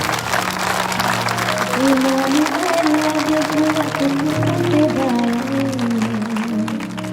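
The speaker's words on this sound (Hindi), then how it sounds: "जोरदार ताली यीशु मसीह के लिए।" A congregation at a live Christian worship service claps loudly and steadily, a dense wash of applause layered under ongoing music with sustained instrumental or vocal tones.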